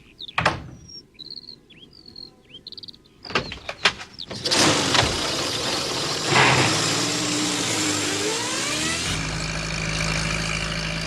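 Postman Pat's small van engine starts and revs up, then drives off with a rising, steady whine. Chirps and clatter come first, and the engine stays loud and close throughout.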